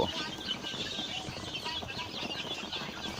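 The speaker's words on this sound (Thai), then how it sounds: "วันนี้ผมก็จะพามาดู ไก่ไข่อายุห้าสัปดาห์แล้วนะครับ" Five-week-old Roman Brown laying hens cluck and chatter together in a busy flock, with soft wing flutters among the steady layered calls.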